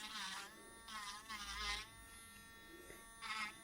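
An electric sanding machine working on resin and freshly baked clay jewelry, giving a steady high buzz that surges in short bursts as the piece is pressed to it, close by and fairly quiet.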